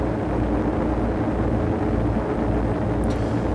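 A spaceship in Star Citizen makes a quick flyby past a station, a dense, steady roar of engine noise that stays loud and unbroken throughout.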